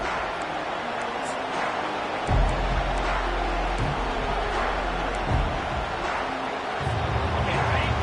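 Stadium crowd at a college football game, a steady broad roar of many voices with swells and low rumbling bursts, heard from a distance with no nearby talk.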